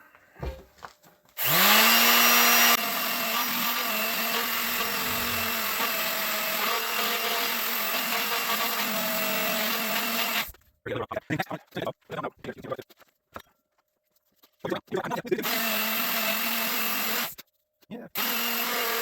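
A power sander whirs loudly and steadily on wood for several seconds, then runs in short, choppy bursts before starting up again near the end.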